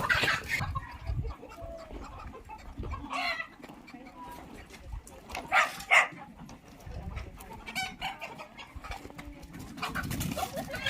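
Chickens cluck and squawk amid a scuffle and rustling as a village rooster is caught, with a few sharp cries rising over the commotion.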